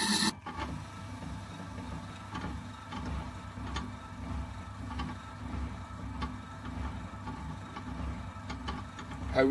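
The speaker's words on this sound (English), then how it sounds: "Honing a brick trowel." A steady scraping and rasping of a brick trowel's metal edge being honed against a stone, close up and continuous, with a sharp clack at the start.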